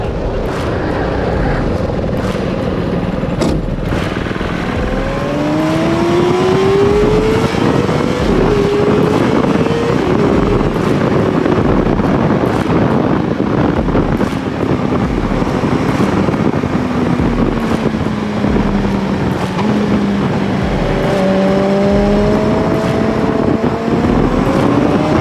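A street go-kart fitted with a Suzuki Gixxer 600 motorbike engine drones steadily and loudly through the whole stretch, its pitch sweeping up and down as it revs, with wind buffeting the microphone.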